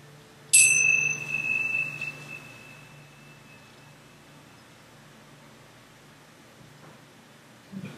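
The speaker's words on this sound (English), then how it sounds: "So when I play this little bell now, it's got a strong piercing sound." A small bell is struck once in a yoga class, giving a sharp, piercing ring that sounds clearly and then decays slowly over several seconds into a quiet room.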